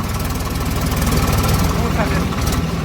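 Swaraj 855 4WD tractor engine idling steadily nearby with a low, even throbbing rumble throughout, under a noisy field setting where rice paddy is being loaded.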